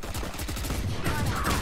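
Rapid gunfire in the video game Valorant on the Haven map, with a steady burst of close automatic shots running for the full moment.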